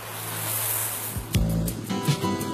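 A small waterfall splashes steadily beneath an old iron railway bridge brought from England, a continuous rushing wash with a few louder splashes near the end.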